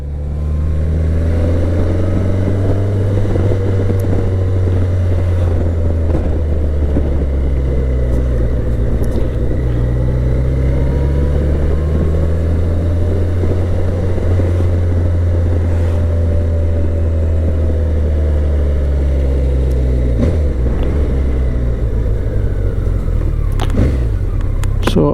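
A BMW K1100LT motorcycle rides in second gear, its engine a deep, continuous rumble with gently rising and falling pitch and steady wind noise for the whole stretch, loud and close with no talking.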